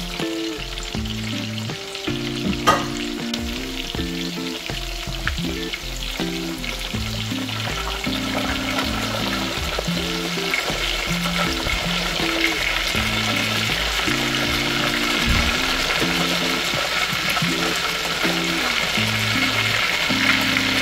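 Food fries loudly in a pan while sinigang ingredients such as a large tomato and onion are prepared, an unbroken crackling sizzle with a few stirring knocks. Steady low hum patterns run underneath throughout.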